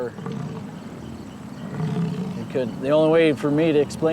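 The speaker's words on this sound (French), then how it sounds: "Pensez au rugissement du lion d'Afrique, et vous aurez le son d'un bison mâle en train d'essayer de montrer aux autres qui est le chef." A male bison roaring, a deep drawn-out bellow rising out of low rumbling background noise, loud and close, repeated in two long calls near the end.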